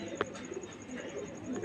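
Kaldom pigeons cooing softly in a loft at dusk, a few low murmuring coos close by against a quiet background with faint room noise.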